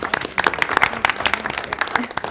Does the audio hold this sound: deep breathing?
no